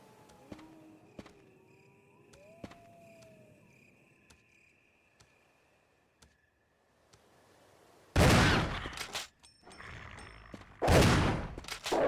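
Gunfire in the video game Resident Evil 1. A quiet stretch of faint clicks and small tones gives way to several loud, sharp bursts of shots near the end, with no talking.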